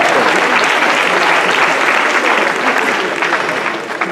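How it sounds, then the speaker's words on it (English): A live audience at a Day of Knowledge talk on remembering things and names breaks into dense, loud applause that holds steady for several seconds before tapering slightly at the end. "Give yourselves a round of applause."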